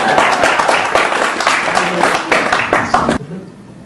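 A large indoor audience bursts into sustained, dense applause and clapping that fills most of the moment before cutting off abruptly into near quiet.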